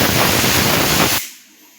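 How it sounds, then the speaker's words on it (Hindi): A pressure cooker whistle shrieks loud and close in a home kitchen while tea boils, a steady hissing blast that cuts off abruptly, leaving only faint room noise. "साथ ही कुकर की सीटी भी आ रही"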